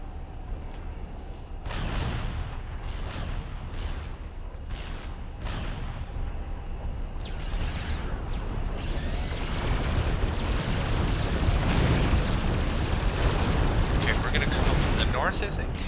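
Artillery fire in the Supreme Commander strategy game, repeated booming shots and rumbling impacts building into a dense continuous barrage, with someone talking over it.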